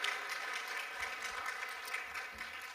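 A congregation claps for the youth group at a church young adults' worship service, steady dense applause of many hands that runs throughout, moderately distant.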